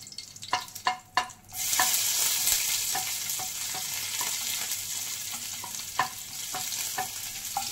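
Finely chopped garlic for a potato curry hits a pan after a few sharp utensil taps, bursting into a loud sizzle that settles into steady frying with intermittent stirring clicks.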